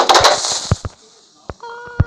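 A TNT block detonates in Minecraft Pocket Edition: a loud, crackling burst at the start, then several sharp pops and thuds at irregular intervals as the blast fades.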